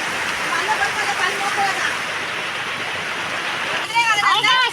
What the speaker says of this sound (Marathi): लावताना मोठा पाऊस येताना बघा